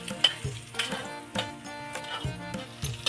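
Green chillies for bhurji are stirred in a hot pan, with frequent scrapes and clinks of a spoon against metal over a soft sizzle, close and fairly quiet.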